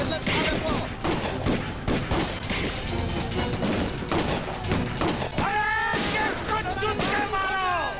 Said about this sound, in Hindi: गोली चला दे रहा हूँ।